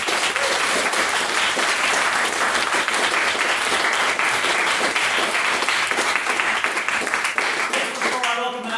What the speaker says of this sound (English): can we please get another round of applause for our magnificent maiden speech?